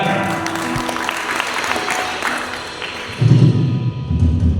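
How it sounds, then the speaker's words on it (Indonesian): Guests at a wedding ceremony clap together after the first kiss on the forehead, a moderate roomful of applause with some low thumps and rumble, swelling louder near the end. "Mari kita semua tepuk tangan."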